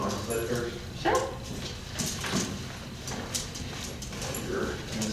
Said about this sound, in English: You're an excited little puppy.